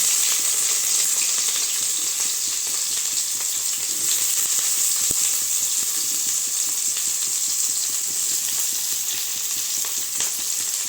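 Mustard seeds spluttering in hot oil in a pan, the first step of a Tamil-style corn fried rice: a steady, dense crackle and sizzle, fairly close, running without a break, with one sharp pop and no voices.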